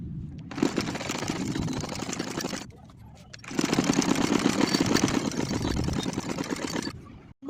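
A sewing machine runs a double stitch on a kameez seam, a steady mid-pitched whirring in two long bursts separated by a short pause, close and fairly loud.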